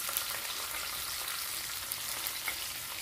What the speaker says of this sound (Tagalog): Ang pagprito ng ating isda.